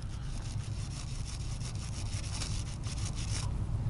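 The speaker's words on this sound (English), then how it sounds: "we're going to take our brass wire brush and scrub within the grooves and all surface contact areas" A brass wire brush scrubs the grooves and contact surfaces of a rifle's gas regulating puck, giving a steady, close, raspy rubbing that continues without pause.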